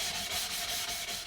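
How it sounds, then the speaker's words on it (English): Glass edge being smoothed with an 80 grit sanding pad in a glass studio, a steady abrasive rubbing with regular strokes, close and moderately quiet. "I usually try to take everything down with the 80 grit pad initially."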